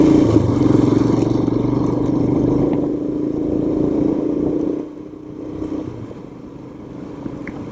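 A Royal Enfield Himalayan motorcycle rides along a narrow, slow paved road, its engine giving a steady, fairly loud drone that eases slightly partway through, with no voices.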